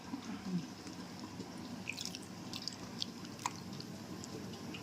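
Water trickles and splashes in small, uneven bursts, with light drips and clinks close by against a faint background hum.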